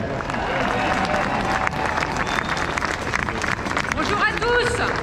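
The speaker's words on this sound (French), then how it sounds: "Un tonnerre d'applaudissements pour Gaël" A crowd at a Paris street protest against the vaccine pass, Place de Barcelone, bursts into loud, dense applause and cheering for a speaker, filling the whole stretch with clapping and crowd noise.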